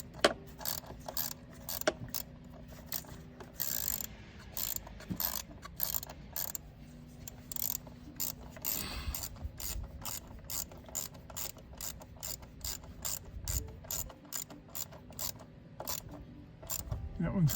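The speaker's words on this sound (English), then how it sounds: "then I'll tighten them both down nice and tight" Ratchet wrench tightening fuel rail bolts on a Yukon, Tahoe or Silverado fuel injector repair, rapid clicking pawl strokes in repeated bursts up close, with occasional metallic clunks and someone speaking at times.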